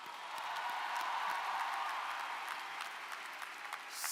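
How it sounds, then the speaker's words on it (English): Sustained applause from a large audience at a 2019 college commencement ceremony, dense steady clapping that fills the space without pause and swells slightly near the end. "So let's give our speaker another round of applause."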